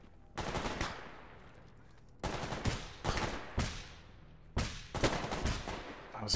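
Gunfire in the video game S.T.A.L.K.E.R. GAMMA: several sharp shots and short bursts ring out loud, each trailing off in a decaying echo, separated by brief gaps.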